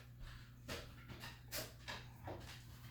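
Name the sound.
dog running and barking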